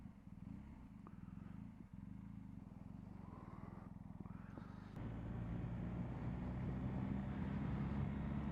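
A BMW R 1250 GS Adventure motorcycle idles with a steady low rumble that is somewhat shaky and rattly, and it picks up into a louder, fuller running note partway through, close by with no talk.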